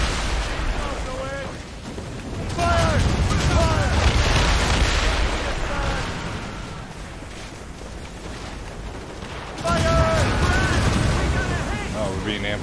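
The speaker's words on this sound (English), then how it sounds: "We're gonna put some mortars on real quick" Ship cannons and mortars boom repeatedly during an Assassin's Creed Rogue naval battle, dense rumbling blasts over a loud continuous roar of sea and combat, with heavier volleys returning near the end.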